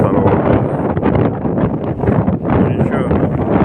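Cold wind blows hard on a snowy early-June day, buffeting the microphone in loud, uneven rumbling gusts that swell and dip throughout.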